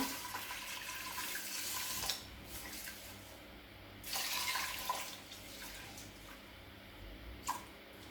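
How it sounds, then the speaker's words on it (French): Water poured over bulk grains in a pot, a close rushing splash in a few bursts with brief pauses between pours. "Donc après, je recouvre d'eau."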